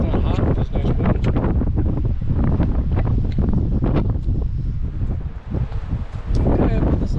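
Strong outdoor wind buffets the microphone while a demolition hammer is fitted to a mini excavator, producing a loud, continuous, gusting rumble that dominates nearly the whole stretch.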